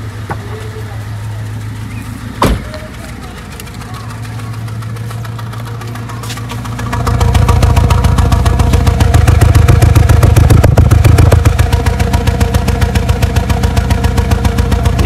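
Car engine idling and knocking, a steady rhythmic putter that swells louder about halfway through into a heavy, close, pulsing rumble, with a single sharp knock early on and someone talking over it.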